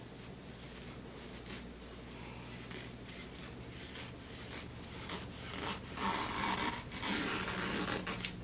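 Scissors snip through folded cross stitch fabric, a fat half yard cut down the middle, giving a run of steady rasping strokes close by that grow slightly louder toward the end, with no talking.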